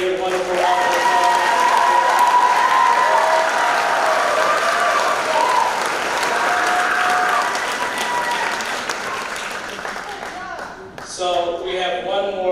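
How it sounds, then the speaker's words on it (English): Sustained crowd applause greets graduating seniors at a senior awards evening, a long even roar of clapping with cheering and voices rising over it, tapering slightly toward the end. "let's give all these seniors a great, wonderful round of applause"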